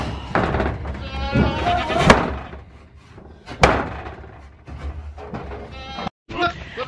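Goats bleating loudly in a farm pen near a feed shed, several overlapping wavering calls close by, with a sharp knock or slam partway through and a brief cut near the end.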